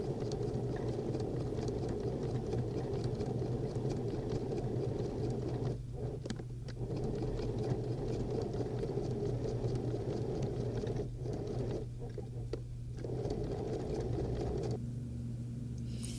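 Sewing machine stitching fabric around a curve for a tote bag, producing a fast, steady mechanical whirr and rattle at moderate volume, with a few brief dips where the stitching slows or pauses.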